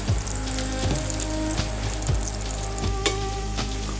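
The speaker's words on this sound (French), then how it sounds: "il faut être généreux en huile parce qu'il faut vraiment que ça puisse les frire" Food frying in a generous amount of oil, a steady close sizzle broken by several soft stirring knocks and one sharp spatter, with no voices.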